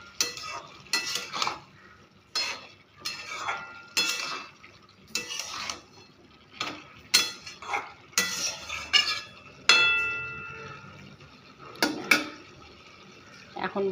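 A spoon stirs food in a pan after sugar is added, with repeated scraping and clinking strokes against the metal in an uneven rhythm, close and clear, light sizzling underneath.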